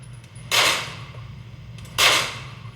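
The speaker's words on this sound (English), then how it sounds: "I'm gonna go through this whole mag without that single shot issue." Two separate pistol shots from a Canik SFX Rival fire about a second and a half apart, each a loud sharp crack with a short decaying tail, heard alone over a low steady background hum.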